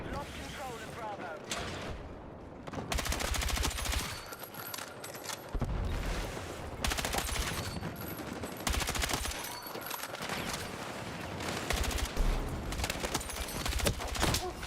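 Rapid gunfire from Battlefield 6 crackles in dense, repeated bursts of automatic fire and shots, loud and near, with a voice talking over parts of the battle.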